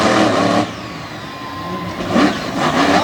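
Race truck engine revving hard on a Front Royal hill climb, a loud close roar that drops back briefly then surges again, with no talk over it.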